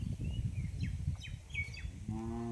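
A Sindhi-breed cow lets out a low moo on a rural hillside road in the Bargur hills of Erode district. The moo comes late, against a steady rumbling background, with chirping birds scattered over it and no talk.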